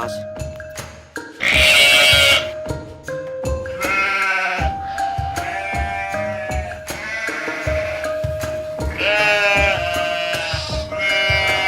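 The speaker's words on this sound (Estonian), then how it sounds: "Lammas." Sheep bleat loudly and repeatedly at close range, long wavering calls with short gaps between them, alongside some clattering farmyard noise.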